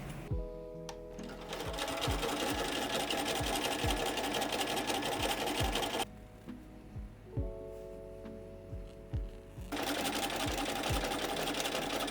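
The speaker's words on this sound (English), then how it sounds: "I have the button attachment already on my sewing machine" A sewing machine with a button attachment stitches scrap fabric in loud, fast mechanical bursts, stopping briefly in the middle for a quieter stretch of isolated clunks before the rapid stitching resumes.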